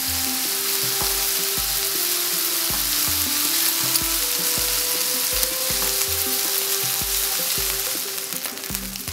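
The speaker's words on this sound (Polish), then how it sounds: "moja jagnięcina już się ładnie przyrumieniła z obu stron, więc zdejmuję ją teraz z patelni" Lamb chops sizzle and fry loudly in a frying pan, a steady dense hiss with crackle throughout, ending with a slight shift as the pan is handled; no speech.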